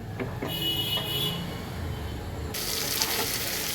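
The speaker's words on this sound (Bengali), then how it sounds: "তো এটা এখন একটু কষানো হোক" Spices sautéing in oil for a fish curry, a continuous close sizzle and hiss with a few spoon scrapes, brightening into a sharper, louder frying sound near the end.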